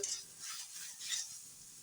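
Spices frying in a pan for a fig curry with coriander, cumin and tomato, a steady soft sizzle with a couple of stirring scrapes rising and falling, close and fairly quiet, no voices.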